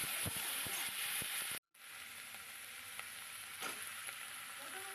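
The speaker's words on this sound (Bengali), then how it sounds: "পেঁয়াজটা একটু ভালো করে নেড়ে নিয়েছি।" Onion paste frying in a pan for a Bengali chital fish curry, a steady close sizzle broken by a brief dropout, with scraping stir strokes early on and occasional spatters.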